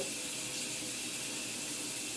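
Shower water running in a cabin bathroom, a steady, even hiss of spray that stays constant throughout at a soft, close level with no voices.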